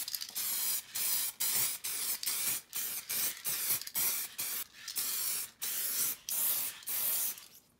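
Final clear coat sprayed onto car headlamps from an aerosol can, a rapid series of short hissing passes with brief breaks, close and steady.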